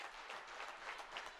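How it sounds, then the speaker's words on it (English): Fans at a college volleyball match between the Northwest Missouri State Bearcats and the Fort Hays State Tigers clap in a steady, dense patter that sounds somewhat distant and hall-like. "the fans are up and clapping here"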